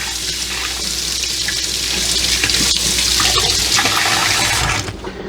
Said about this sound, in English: gotta give this a rinse after I taste it